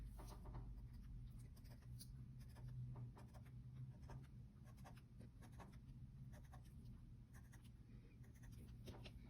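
A Sharpie marker draws inch marks on paper: faint, close squeaky strokes and short scratches repeating irregularly, with no talking.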